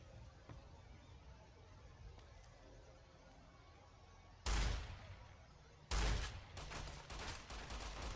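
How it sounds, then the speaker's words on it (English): Gunfire in the video game Fallout: New Vegas, two loud sudden bursts of shots after a quiet stretch, the second followed by rapid repeated shots, with faint talk in between. "Shooting people."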